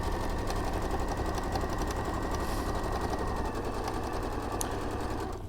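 A sewing machine runs steadily, a continuous low mechanical whir with fine rapid ticking, at moderate level throughout and with no talk over it.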